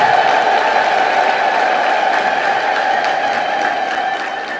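A church congregation at an Ethiopian homily fills the space with sustained high ululation and applause, a loud, continuous wash of voices and clapping that fades a little near the end.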